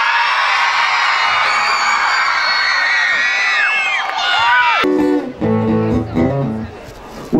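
A loud concert crowd screams, whoops and cheers continuously at a homecoming show, shrill voices blending into a dense roar that drops off abruptly near the end as music with sustained tones takes over.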